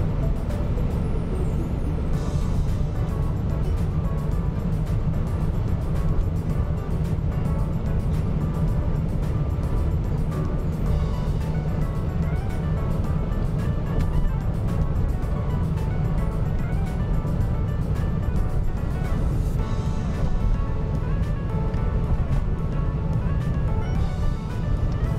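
Car driving through the city of Voronezh, crossing a bridge, heard from inside as a steady, loud broadband engine and road rumble that continues without letup.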